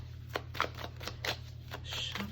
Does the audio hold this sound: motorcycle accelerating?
no